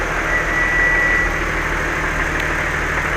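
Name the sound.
Audi A3 V6 engine idling after first start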